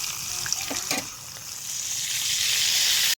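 Breaded tilapia pieces, over a kilo of fish, hiss and sizzle steadily in hot frying oil, a loud, close crackle that swells toward the end.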